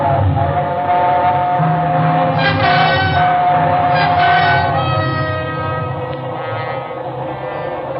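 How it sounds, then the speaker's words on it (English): A train roaring through a tunnel in a radio drama sound effect, with a loud, continuous rumble and a whistle-like tonal wail rising over it midway, then slowly easing, no voices. "It was only the train going through the tunnel"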